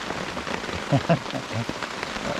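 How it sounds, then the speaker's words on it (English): Steady heavy rain pouring down at a canoe campsite with dense, continuous patter, plus a few louder thumps partway through. "But what do you do when it's just pouring rain?"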